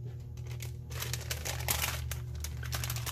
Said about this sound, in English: Let me move the paper out of the way.